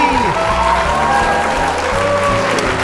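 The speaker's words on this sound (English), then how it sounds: "give it up for the stars of the show, Marc and Tony." Studio audience at a variety show breaks into loud, continuous applause, dense clapping that holds steady from start to finish with music underneath.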